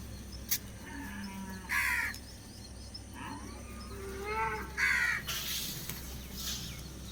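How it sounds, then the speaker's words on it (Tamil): A flock of crows caws outdoors in repeated bursts of harsh calls, some close and loud, others farther off, over a steady low background hum. "20 காக்காக்கு மேலே இருக்குங்க."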